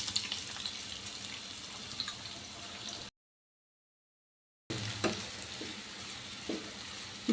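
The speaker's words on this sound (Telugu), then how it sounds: "స్టవ్ మీడియం ఫ్లేమ్లో పెట్టుకొని బాగా దూరగా ఫ్రై చేసుకుందామండి" Chopped medium-size onions frying in a pan on a medium flame, a steady close hiss with occasional soft stirring clicks, interrupted by a brief total silence midway before resuming.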